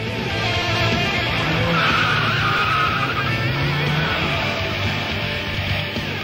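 Car tires skidding and squealing in a 32X racing video game, a loud, sustained screech over a roaring engine, constant and close throughout.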